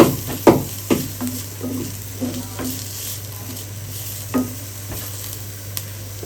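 Dried shark fish frying lightly in a pan gives a low, steady sizzle near the mic, broken by a few sharp stirring knocks and scrapes.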